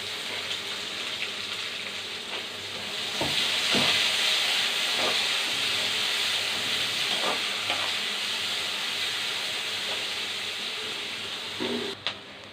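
Onions frying in a pan for karuvadu kuzhambu (Tamil dried-fish curry): a steady loud hiss of oil throughout, with a few soft knocks and scrapes of stirring and a brief clatter near the end.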